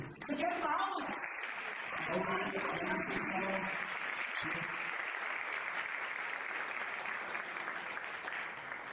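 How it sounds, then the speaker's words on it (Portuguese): An audience at a live car-brand celebration event claps steadily and continuously, with a presenter's voice and a few cheers over the start of the applause. "Eu quero palmas."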